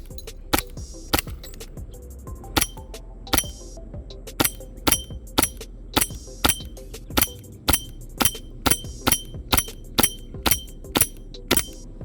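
Shots from a WE Hi-Capa Dragon 7.0 green-gas airsoft pistol fire as a long series of about twenty sharp, evenly spaced cracks, with glass targets breaking and clinking between some of them.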